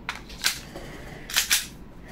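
An AW Custom HX 2003 airsoft pistol fires a few sharp, snappy shots, two of them spaced early and a close pair about a second later, loud and near with no speech.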